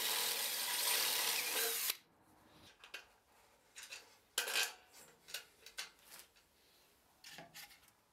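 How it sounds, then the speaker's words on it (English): Power drill boring into cast iron, a loud high whine for about two seconds that stops abruptly, followed by scattered metallic clinks and handling knocks of tools and parts. "to drill in cast iron, I first use a smaller bit and then the bit of the size that I wanted"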